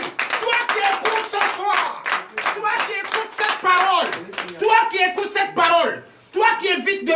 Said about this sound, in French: Donnez l'acclamation au Seigneur Jésus.